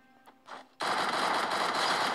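Rapid automatic gunfire from the video game Free Fire breaks out after a brief quiet moment, a dense, loud, continuous crackling burst close up.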